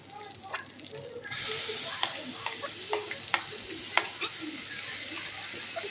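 Ginger paste hits a hot pan for butter aloo dum, bursting into a loud, steady sizzle after a quieter opening second, with scattered spatter pops and spoon scrapes through the frying.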